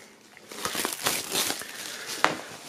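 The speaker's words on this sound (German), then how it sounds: "Folie geht wunderbar ab." Plastic shrink-wrap foil crinkles as it is peeled off a hardcover box set for the rap duo Zugezogen Maskulin, a close run of crackly rustles with a sharper snap near the end, no voices.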